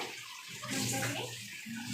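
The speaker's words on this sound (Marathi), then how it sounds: "म्हणून लगेच भांडी धुवून ठेवायची" Steady running tap water splashes in a kitchen sink as dishes are washed right after cooking, a continuous close gush with no voices.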